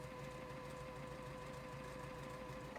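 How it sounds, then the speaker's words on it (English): A sewing machine stitches straight down the crease of quilt binding strips, a steady close mechanical hum with fast even needle ticking that continues without pause. "we're just going to sew straight down right inside the crease"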